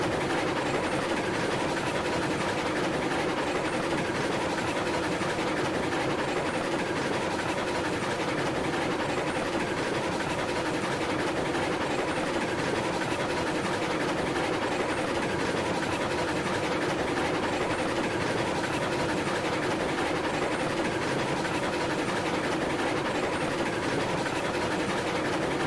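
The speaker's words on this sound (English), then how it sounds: "have no idea how much this little engine can haul, but she's handling 4 just fine" A small locomotive in the Railroads Online game hauls four train cars, giving a steady low engine rumble and continuous rail noise that runs unbroken and fairly loud throughout.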